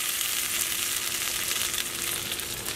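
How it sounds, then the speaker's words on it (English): Caramelizing onions fry in a hot pan, giving off a dense, even crackling sizzle, close and steady throughout with no voices. "You can see that all these onions kind of caramelized up."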